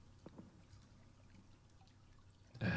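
Water trickles and drips faintly in the dark SCP-847 horror game, a soft thin pour with scattered drops, before a louder burst at the end.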